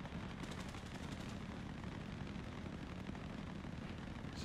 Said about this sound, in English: Oh, the freaking gunshots, man.